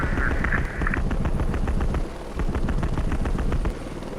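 A helicopter in the combat game Heliborne drones with a steady rotor rumble, overlaid by rapid bursts of heavy automatic gunfire crackling in regular rhythm, with a brief tone near the start.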